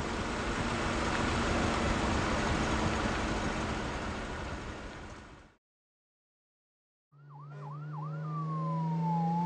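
Loud rushing road noise cuts off into silence, then a fire truck siren bursts in with rapid whooping cycles followed by a sustained descending wail.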